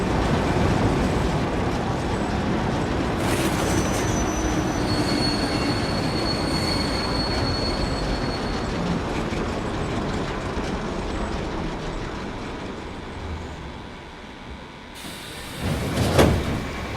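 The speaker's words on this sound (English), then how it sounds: "Oh, the train stopped and the door's open" A video game train rolls to a halt with steady rail rumble and wheel noise, a high metallic squeal threading through the middle, then a sharp clank and hiss near the end as it stops.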